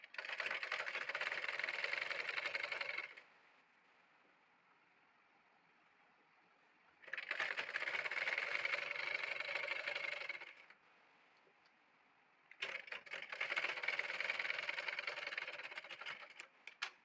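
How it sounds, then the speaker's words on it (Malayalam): A sewing machine stitches the folded sleeve hem of a baby frill frock in three loud running bursts of about three seconds each, separated by quiet pauses. "രണ്ട് കൈയിൻ്റെ താഴെ ഭാഗം നമുക്ക് അടിക്കാം"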